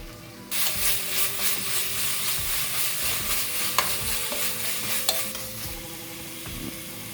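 Ginger and garlic fry with onion and chilli in a pot for lamb biryani, a steady loud sizzle with scraping stirs and a few sharp clicks, heard up close without speech.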